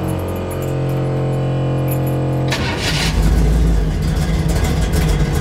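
A stroker engine in a restored 1957 Chevrolet pickup runs near and steady, its idle swelling louder and rougher about halfway through as it revs up on its own.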